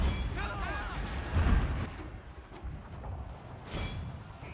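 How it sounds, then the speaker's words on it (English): Cannon battery artillery fire in the strategy game Fall of the Samurai, a deep booming thump amid a dense battlefield din of low rumbles and scattered shots, with someone talking over it. "I guess the cannon battery found a decent target there."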